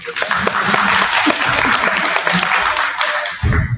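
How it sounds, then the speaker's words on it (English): A room of listeners at a school or teaching gathering gives a round of applause for a speaker, with steady, fairly loud clapping and a few voices mixed in, then a brief low thump near the end. "A round of applause for the speaker"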